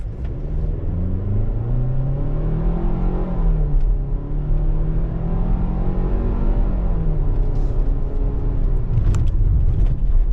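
A 2023 Hyundai Tucson XRT pulls away after an emergency stop, its engine note rising steadily then leveling off as it accelerates, heard close from inside the cabin with a constant road rumble and no talking.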